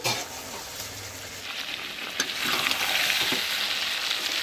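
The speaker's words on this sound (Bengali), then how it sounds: "এখন ভেজে নেওয়া আলুগুলো দিয়ে দিচ্ছি" Fried potatoes go into a pan of mutton curry cooked in little oil, bringing a steady sizzle and frying hiss with stirring scrapes that grows slightly louder midway, with no one speaking.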